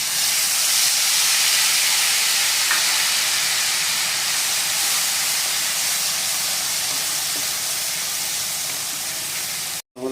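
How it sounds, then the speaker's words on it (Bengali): Paste made from one large onion fries in hot oil with a loud, steady sizzling hiss that lasts almost the whole time, ending with a brief clatter. "আর এখন সেম তেলে আমি দিয়ে নিচ্ছি আগে থেকে একটা পেঁয়াজ আমি পেস্ট করে রেখেছিলাম"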